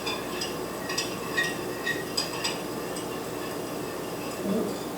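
Jello mixture being stirred in a bowl with a spoon, giving soft repeated clinks and scraping against the bowl over steady background noise.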